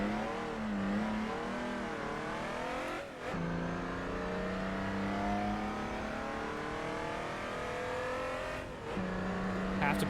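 A BMW race car engine in a racing video game drones continuously at high revs with rising and falling pitch, close and loud, dipping briefly around gear changes while someone talks over it.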